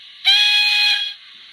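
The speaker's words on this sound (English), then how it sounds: "Playable whistle. And it's got this weird thing where you've still got the prairie whistle on number 2." A steam whistle from a Soundtraxx Econami DCC sound decoder fitted in a Hornby A4 model locomotive sounds once, a loud, steady, shrill blast of about a second over a faint background hiss.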